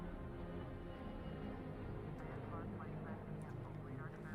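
Airplane flying in a Microsoft Flight Simulator game trailer, a steady engine drone running throughout beneath a person talking over it.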